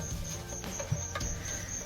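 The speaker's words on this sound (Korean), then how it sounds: "지금 이 안에 귀뚜라미가 대충 한 100마리 정도가 돼요" Dense chirping of about a hundred feeder crickets poured into a savannah monitor's enclosure, a steady high trill with light pattering and rustling close by, no talking.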